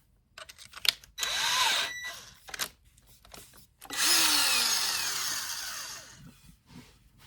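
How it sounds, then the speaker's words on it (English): A power drill bores a 1/4 inch hole into a wooden cigar box guitar fretboard, with two sustained whining runs separated by short bursts and pauses, close and fairly loud. "You just drill yourself a little 1/4 inch hole."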